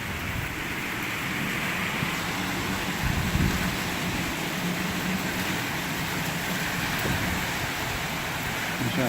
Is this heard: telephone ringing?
no